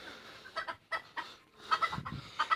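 A rooster clucks in short, irregular bursts close to the microphone, a series of brief calls separated by small pauses.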